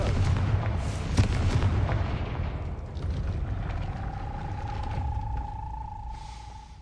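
Confringo spell blasts in the Hogwarts Legacy video game, booming explosive bursts over a dense rumbling game soundscape, followed by a sustained tonal hum as the noise fades.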